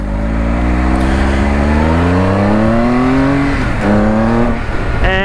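A 2019 Triumph Speed Triple RS three-cylinder motorcycle in sport mode revs hard, its pitch sweeping upward through several rising runs with a brief drop and recovery, loud and close throughout.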